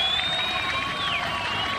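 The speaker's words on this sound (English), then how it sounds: "Warm applause from his fellow players, and there are a lot of Dutch fans here in the ground" Steady, even applause from cricket players and a crowd of fans at the ground during a 2003 Cricket World Cup group match between India and the Netherlands, a dense, continuous clatter with no pauses and no voices.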